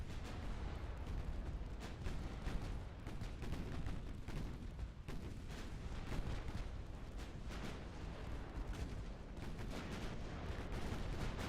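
Naval gunfire and torpedo strikes in the warship battle game Ultimate Admiral: Dreadnoughts, during an Italian campaign: a dense, continuous rumble of cannon blasts and explosions that holds steady and loud throughout.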